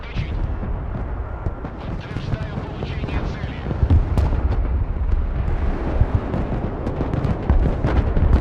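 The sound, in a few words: bombing run explosions in the Broken Arrow video game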